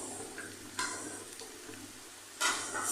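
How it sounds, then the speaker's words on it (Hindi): Two finely chopped capsicums fry together with potatoes in a pan for a vegetable roll filling, producing a soft steady sizzle with two louder hissing surges as the mixture is stirred. "और इन सबको भी आलूओं के साथ फ्राई कर लेना है"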